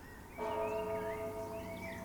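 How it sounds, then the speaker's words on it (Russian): Church bells ring out over a town at sunrise as troops march to a square in old Moscow, a steady bright tolling with sustained overtones that starts abruptly and keeps resonating fairly loud and clear. "А в Москве ударили колокола."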